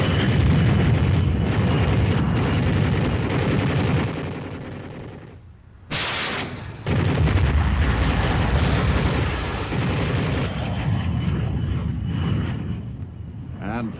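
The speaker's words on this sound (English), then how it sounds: "the first flight drops general purpose bombs." Bombs dropped by a flight of aircraft burst in a series of loud, rumbling explosions against a dug-in enemy, with a steady roar continuing throughout and a brief lull midway.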